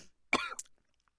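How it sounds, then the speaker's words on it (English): A single sharp cough with a throaty rasp from someone who has just eaten very spicy hot sauce, brief and close, followed by quiet. "It's making me cough."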